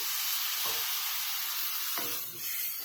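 Mutton curry frying in a pan with spices gives a steady close sizzle throughout, with a few soft stirring knocks and a brief dip near the end as water is added.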